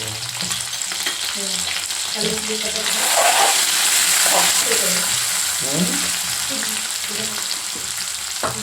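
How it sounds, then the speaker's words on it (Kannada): Crushed chilli and spices splutter loudly in hot oil with garlic, making a dense, continuous crackling sizzle that swells in the middle. "ಕುಟ್ಟಿದಂಥ ಖಾರ ಸಿಡಿದೈತಿ ಹುಷಾರ್ಲೆ ಹಾಕ್ಬೇಕು"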